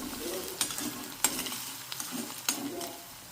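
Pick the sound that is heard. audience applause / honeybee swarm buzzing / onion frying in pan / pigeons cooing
onion frying in pan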